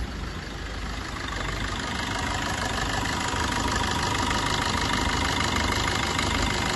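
A 2019 Maruti Suzuki Vitara Brezza VDI diesel engine idles steadily, a continuous close rumble with a faint knocking texture and no voices, holding even throughout.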